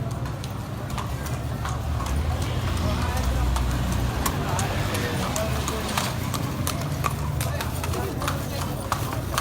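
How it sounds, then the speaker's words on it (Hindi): Horse hooves clip-clop steadily on the road during a Milad un Nabi street rally in Sar Sooba Shah, a close rhythmic clatter under loud crowd noise and talking voices. "वाह घोड़ा, वाह घोड़ा।"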